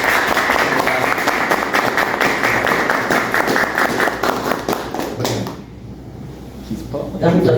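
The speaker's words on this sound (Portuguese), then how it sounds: "finalizamos com a salva de palmas aí" Studio guests on a student-day educational podcast give a round of applause, brisk clapping that carries for several seconds before cutting to near quiet, followed by a faint return of sound.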